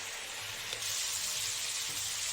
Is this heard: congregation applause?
no